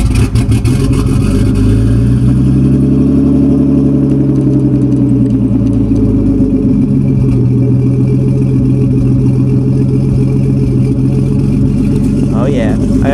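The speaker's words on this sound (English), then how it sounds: "it does take a little bit to start up," A Nissan 240SX S13 engine with an open downpipe and no exhaust turns over and catches, then settles into a loud, rough, steady rumble that fills the whole stretch, with a brief voice near the end.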